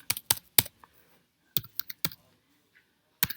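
Keys clatter on a computer keyboard while names are entered into an SQL editor, short bursts of close, crisp clicks separated by pauses, with no talking.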